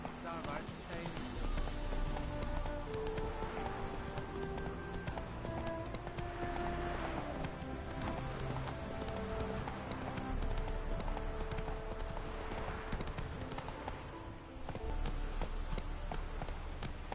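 Hooves of the horse Roach drum a rapid galloping clip-clop in The Witcher 3, continuous and close under a dense bed of game music and sound effects, with speech over it.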